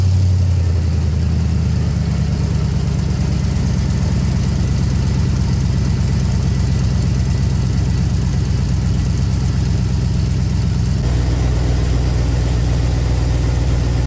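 A 2003 Chevrolet Silverado SS pickup with its muffler deleted cold-starts and settles into a loud, deep, rumbling idle close to the microphone, with a slight shift in tone near the end.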